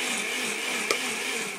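A kitchen blender runs steadily, a loud, even whir with no pauses and no voices.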